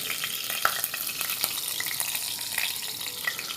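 Mustard seeds, curry leaves and green chilies crackle and sizzle in hot oil for a besan-yogurt kadhi tempering, a dense close hiss dotted with sharp pops and spatters.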